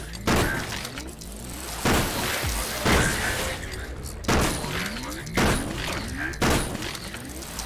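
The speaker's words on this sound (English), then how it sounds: "Somebody turn down the fireworks." Repeated loud booming bursts of video game fireworks, roughly once per second, with crackling tails between them and a brief voice over the barrage.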